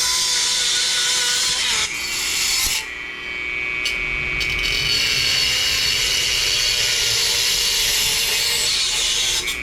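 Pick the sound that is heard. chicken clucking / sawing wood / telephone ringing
sawing wood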